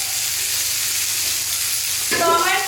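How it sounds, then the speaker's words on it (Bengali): Cauliflower and potato frying in a pan, a loud close hiss of sizzling oil that holds steady and then swells with crackling and stirring near the end. "তো আমার ফুলকপি আর আলুটাও ফ্রাই করা হয়ে গেছে ভালো করে।"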